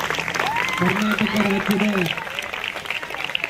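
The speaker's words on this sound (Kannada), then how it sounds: "ಜೋರಾದ ಚಪ್ಪಾಳೆ ಮೂಲಕ" Crowd applauding at a book release held at a government high school in Kiresur, a dense clatter of clapping under an announcer's amplified voice, continuing after the speech stops.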